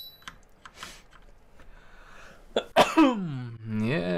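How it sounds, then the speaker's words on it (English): A single person's sneeze bursts out loud and close, a sharp onset followed by a trailing voiced exhale, after a quieter stretch of faint room sounds and small noises. "I'm starting to sneeze."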